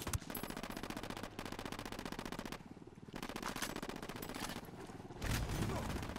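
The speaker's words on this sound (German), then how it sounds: "Die schießen halt ziemlich random." Enemy gunfire in the shooter video game Ghost Recon Wildlands, dense, continuous automatic bursts rattling loudly throughout with brief lulls, ending in a heavier blast.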